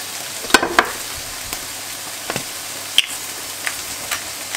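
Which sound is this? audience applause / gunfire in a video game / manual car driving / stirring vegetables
stirring vegetables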